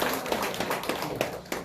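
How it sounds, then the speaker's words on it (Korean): Church congregation claps together during a Sunday morning service to welcome a new member, a steady patter of many hands at moderate volume with no voices over it. "우리 박수로 환영하겠습니다."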